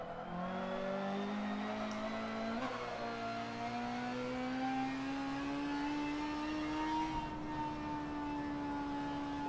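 A racing car's engine in Forza Motorsport 7 drones steadily, its pitch sliding and shifting as the car changes gear, loud and continuous with no talking.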